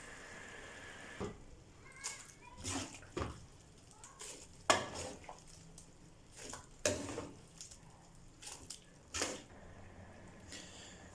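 Cooked spinach and meat are scraped and stirred into a pressure cooker, with wet squelching, utensils clattering against metal, and a few sharp knocks.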